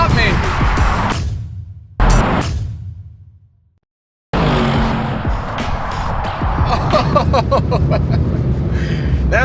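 A BMW M5, Audi RS7 and Mercedes-AMG E63 S drag race: loud engine roar and rushing whooshes that cut out abruptly, then resume with rising, revving engine noise, under excited talk.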